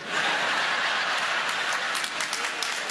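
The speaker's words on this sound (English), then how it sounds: "I haven't got time for your applause." Audience applause fills the room as a steady, dense wash of clapping that holds at an even, fairly loud level throughout, with a few sharper individual claps standing out near the end.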